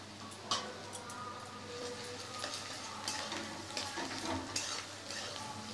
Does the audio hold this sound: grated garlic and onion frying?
yes